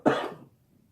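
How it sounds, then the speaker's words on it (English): A single short, husky cough, close and fairly quiet, followed by near silence. "Sorry, I'm still coughing."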